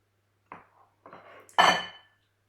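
Chopped courgettes and red pepper dropped into a bowl in a few quiet handfuls, soft clattering thuds against the dish with short pauses between.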